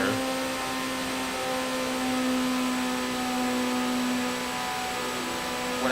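Turbo whine of a car in the TXR racing video game, a steady high-pitched whistle layered over a droning engine hum with a faint tonal buzz, moderately quiet and continuous with no talking.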